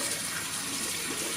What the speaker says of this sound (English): wash it off with soap and water.